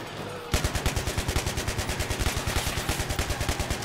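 A PKP machine gun fires a long sustained burst in Battlefield 3, loud and close, with evenly spaced rapid shots thudding at a steady rhythm for over three seconds.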